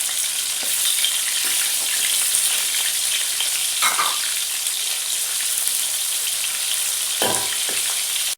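Steady, crackling sizzle of onions frying in a hot pan, with a few soft clinks and scrapes of stirring.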